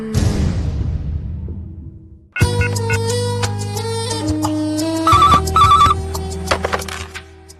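A mobile phone ringtone plays loudly and close after a brief whoosh, a bright melodic electronic tune with repeating notes that continues steadily, with no one speaking over it.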